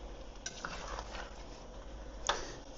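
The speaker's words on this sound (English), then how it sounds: "So what I'm going to do is stir this around" A spoon scrapes and stirs pasta sauce in a pot, a soft continuous clatter with a few sharper knocks against the pan, close and moderately quiet, with no talking.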